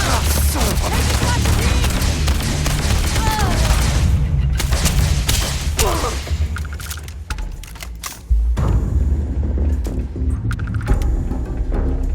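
Dense gunfire and explosions in a sci-fi shooter battle from Starfield, with loud, continuous rapid shots and booms, brief shouting voices, a dip in intensity around the middle, then renewed firing.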